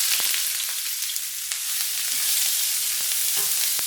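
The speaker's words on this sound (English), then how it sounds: "And now we're going to add 2 cups of chopped up white onions." Two cups of chopped white onions sizzle in olive oil in a pan for a beef stew, giving a steady, bright frying hiss with small pops and occasional stirring clicks, close and uninterrupted by voices.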